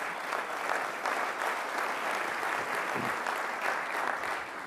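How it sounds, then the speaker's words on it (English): Steady applause from an audience, many hands clapping together at a sustained, even volume throughout. "Yeah, that's worth applause."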